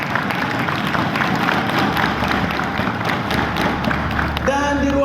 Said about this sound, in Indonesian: Berikan tepuk tangan yang luar biasa untuk ibunda saya